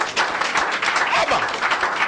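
A studio audience on a Nigerian call-in programme applauds a University of Benin professor of plant biology and biotechnology, with steady, dense clapping that fills the whole moment at an even, moderate level.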